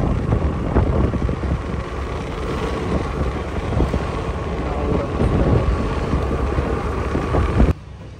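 A car being driven gives a steady low rumble with wind noise inside the cabin. It cuts to a quieter hum at the very end.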